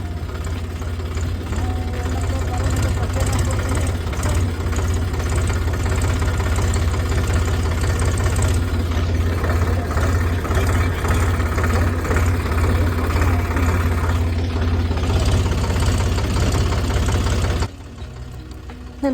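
A tractor engine chugs steadily during a ride, a loud, low, knocking diesel drone that continues for well over fifteen seconds before dropping away abruptly near the end.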